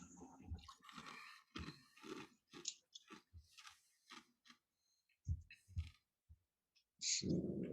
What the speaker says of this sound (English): Sorry, guys, I'm crunching ice.